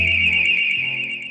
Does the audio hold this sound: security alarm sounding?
yes